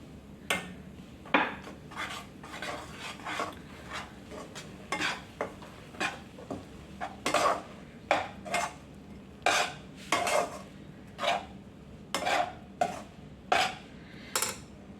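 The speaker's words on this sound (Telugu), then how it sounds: "ఇలా ఒకసారి కలిపి స్టవ్ ఆఫ్ చేసుకోవాలి" Rice flour being stirred into boiling water in a pot, a close series of repeated scraping and knocking spoon strokes against the metal, growing louder and more rhythmic, no talking.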